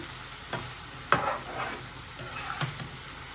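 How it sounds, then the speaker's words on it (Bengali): Vegetables with greens, potato, beans and tomato are stirred and sautéed in a pan, a soft sizzle broken by a few scraping stirs close by, with no talking. "এখন একটু ঢেকে দিব ভালোভাবে একটু কষায় নিই এই যে সুন্দরভাবে কষানো হয়ে গেছে চচ্চড়ির সবজিটা"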